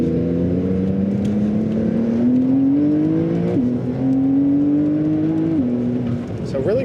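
Porsche 992 Carrera S with a Flat 6 Motorsports Stage 2 power kit (615 hp) in Sport Plus mode, engine pulling hard with rising revs and a brief shift, steady and loud from inside the car.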